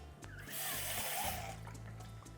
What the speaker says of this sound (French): On va ajouter juste un petit peu d'eau.